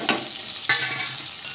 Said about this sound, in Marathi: बटाटे घालूया।